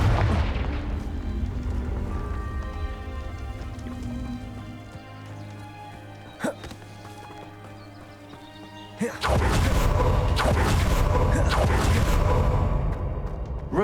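Confringo blasting spell from Hogwarts Legacy: a soft hum carries a couple of brief pops, then a sudden loud explosion breaks in and its crackling roar holds to the end.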